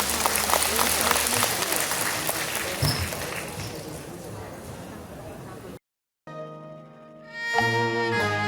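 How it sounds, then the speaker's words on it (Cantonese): An audience applauds at a Cantonese opera memorial event, a dense, steady clapping that fills several seconds before cutting out, followed by instrumental music starting up. "掌聲有請。"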